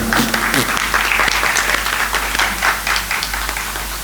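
An audience at a seminar and music festival applauds to welcome a speaker to the stage, dense clapping from a seated crowd with a low hum underneath, fairly loud and continuous.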